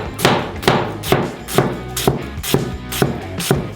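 A knife cuts a peeled purple onion into half rings for pickling, eight sharp, evenly spaced chops against a board, close and crisp with no talk.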